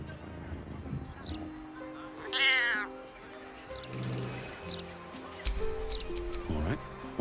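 A cat meows in Baldur's Gate 3, with several drawn-out cries and a caterwauling wail among in-game ambience, clip-clop footsteps and a narrating voice.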